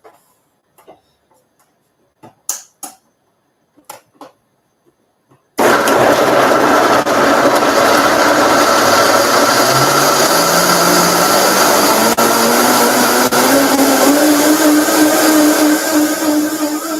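A Vitamix blender is plugged in and started: after a few quiet clicks and taps, the motor kicks in abruptly with a loud, steady whir whose pitch climbs gradually as it runs on.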